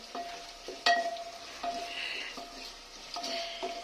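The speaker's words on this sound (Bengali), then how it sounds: "এখানে দিয়েছি দুটো পেঁয়াজ কুচানো, একটু ভালো করে নেড়ে চেড়ে নেব।" Chopped onions frying in oil and being stirred, with a steady sizzle broken by several scraping, clinking strokes of the spatula against the pan; close and fairly quiet, no talking.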